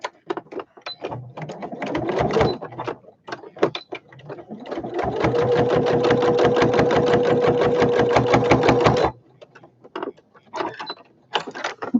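A sewing machine stitches the sides of a toiletry gift bag: a few short, hesitant bursts, then a steady, loud, close whirring run of about four seconds that stops abruptly.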